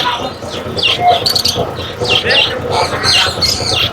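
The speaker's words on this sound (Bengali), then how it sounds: "অনেক সুন্দর সুন্দর পাখি, লাভবাগ পাখি।" Caged lovebirds and other birds chirp and squawk at the Mirpur bird market, bursts of bright calls overlapping one another, with market voices mixed in.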